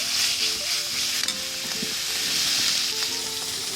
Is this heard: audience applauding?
no